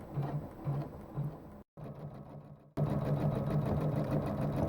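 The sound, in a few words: quilting sewing machine running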